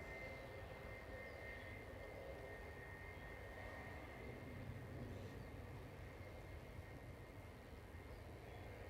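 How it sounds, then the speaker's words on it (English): A Ryanair airliner lining up for departure at Manchester Airport gives a steady, distant engine rumble and whine that holds evenly throughout, fairly faint, with no voices. "Ryanair to Paris, just lining up for departure."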